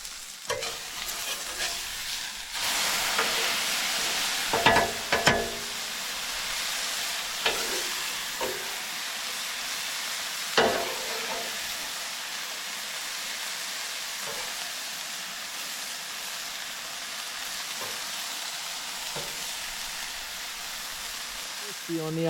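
Plantain slices sizzling in hot oil in a pan at a camp cookout, a steady soft hiss broken by sharp clatters and scrapes of a utensil stirring and turning them.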